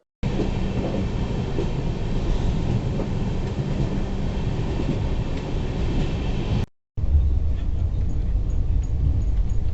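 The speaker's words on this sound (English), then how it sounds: "As soon as the train starts running, each passenger is provided with pillow, bedsheet, and a light blanket." An AC three-tier passenger train on the Kolkata to Guwahati route rolls along the rails with a steady, loud rumble heard from inside the carriage, cut by a brief gap before the droning continues.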